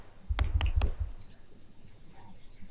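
Two layers of enveloped, 4-pole bandpass-filtered white noise mixed in stereo: a quick cluster of sharp, clicky noise hits, then a single brighter hiss burst, moderately quiet over a low background.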